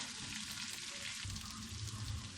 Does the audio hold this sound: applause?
no